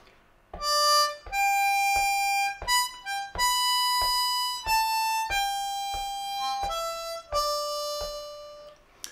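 A C harmonica plays a short melodic phrase from Amazing Grace, clear separate notes, some held and some quick, close and solo with no voices.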